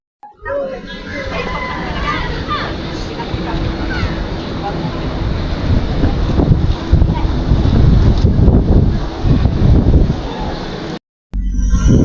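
Strong wind buffets the microphone outdoors, a loud continuous roar with gusts that swell toward the end, and voices can be heard faintly beneath it before a brief dropout.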